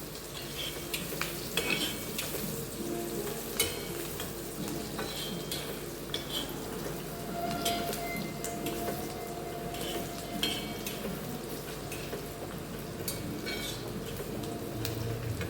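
Chopped onion frying and being stirred in a pan while a cashew curry is prepared, with a steady sizzle, frequent scraping and stirring clatter, and the odd clink of utensil on metal.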